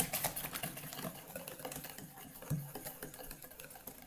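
Rapid, steady clicking and rattling of a hand whisk beating eggs in a bowl, close and continuous with a few sharper knocks.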